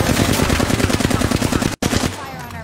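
Rapid automatic gunfire in the shooter game Apex Legends, a loud, close, continuous burst of rattling shots that cuts off abruptly near the end.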